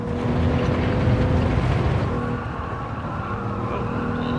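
Genesis G70 car driving in Gran Turismo 7, a continuous engine drone with steady low harmonics that eases slightly partway through, heard alone without talk.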